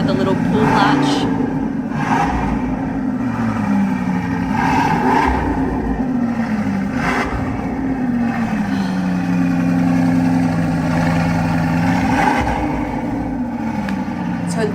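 A deep Bugatti Bolide supercar engine rumbles and revs repeatedly, pitch rising and falling in waves, loud and close, with no one talking.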